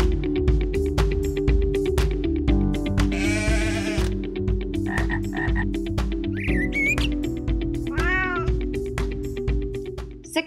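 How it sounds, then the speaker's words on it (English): A programmed toy robot plays a stream of random animal sounds through a small speaker, including meowing cats, croaking frogs and bleating sheep. They come in quick overlapping succession over a steady rhythmic ticking, with no talking. "random animal sounds played on each side of the square"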